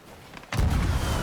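A cannon fires on a pirate ship at sea, giving one sudden loud boom that hangs on as a deep, sustained rumble after a short quiet lead-in.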